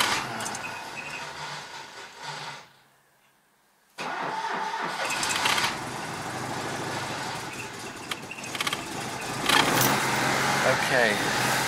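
Old cars cranking over in the snow, the starter grinding, then a brief silent pause before an engine catches and settles into a rough, close idle, with talking at times.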